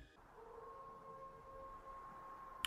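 Wolf howl opening a song: a single long, faint, steady wail held throughout, quiet and distant-sounding, with a brief click at the very end.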